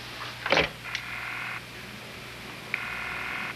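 Telephone ringback tone heard through a handset line, two steady buzzing rings with a pause between them, preceded by a short clatter, close and fairly quiet.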